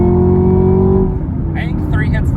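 A Camaro ZL1 1LE engine revs hard while shifting down through the gears: a loud, close, steady engine note that holds and then drops away. Voices can be heard over it.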